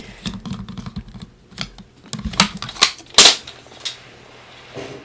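Paper trimmer slicing through cardstock for a Halloween stamping card, with a series of sharp clicks and taps and one louder crisp cut near the middle, close by with no speech.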